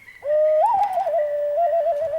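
A whistled bird call imitating birdsong at a live album presentation, one loud sustained wavering tone lasting about two seconds, with a brief chirping flourish early on and no talking.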